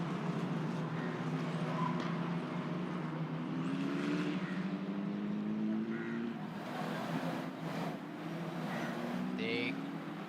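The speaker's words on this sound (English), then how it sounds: "getting into formation, just getting a feel of the circuit for one final round before they head into the starting grid for the race proper" Formula 4 race cars on a slow formation lap at the Sepang circuit, a continuous distant engine drone with gently rising and falling pitch, heard under a commentator's voice.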